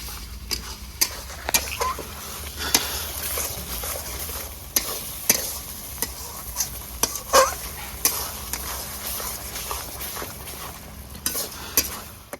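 Garlic stirred and frying in a pan with already-fried onion for a village-style prawn malai curry, a low steady sizzle punctuated by frequent sharp clicks and scrapes of the spatula, close and without speech.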